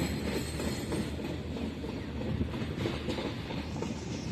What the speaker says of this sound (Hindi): अब यहाँ पे बिल्कुल धीमी रफ्तार में ट्रेन चल रही है 15-20 की स्पीड से।